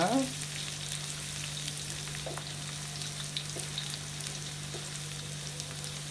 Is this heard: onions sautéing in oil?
yes